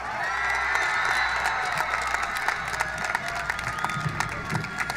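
A high school graduation crowd applauds the top seniors with sustained clapping and cheering, a dense, steady wash of hands and voices filling the hall, with a shrill tone running underneath.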